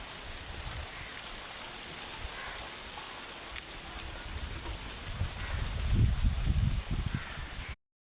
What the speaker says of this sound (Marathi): अचानक पाऊस आला त्याच्यामुळं काहीच करता नाही आलं.